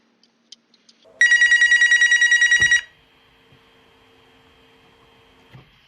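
A telephone bell rings in one sustained burst of rapid trilling, loud and close, then stops; faint clicks before it and quiet room noise after.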